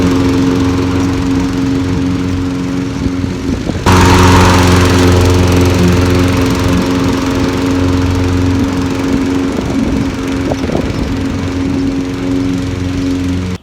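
A lawn mower runs steadily at close range as it cuts normal-height spring grass at a fast pace, its engine drone continuous and loud throughout with a brief surge in intensity partway through.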